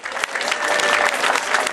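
Brief, steady applause from a crowd at a beauty pageant semifinal in Riva Ligure, Italy, a bright wash of many hands clapping at once with no talking over it.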